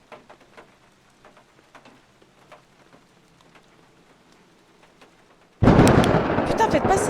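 Sudden loud burst of thunder and heavy rain in the horror game Deathwatch. It comes after several seconds of quiet creaks and footsteps and continues as a dense roar.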